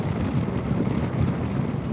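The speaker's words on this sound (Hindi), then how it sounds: "बहुत ज़्यादा तेज़ हवा चल रही है" Strong wind gusting through the hills near Solan in Himachal Pradesh, a loud, continuous rumbling buffet against the microphone with no voices.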